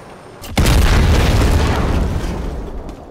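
A loud explosion in the video game Call of Duty: Modern Warfare bursts suddenly after a moment of quiet, then a deep booming rumble that slowly fades over the next two seconds, with no talk over it.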